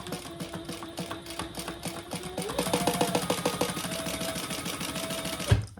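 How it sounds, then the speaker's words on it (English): A sewing machine runs a basting stitch across the bottom of a hip bag, rapid rhythmic clatter that slows briefly then speeds up, close and clear, ending with a sharp thump. "Now I am going to go and just stitch across the bottom, just at a basting stitch."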